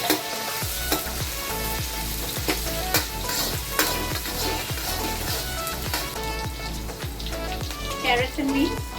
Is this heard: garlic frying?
yes